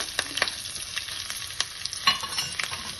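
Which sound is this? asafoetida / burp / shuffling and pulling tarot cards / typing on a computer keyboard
asafoetida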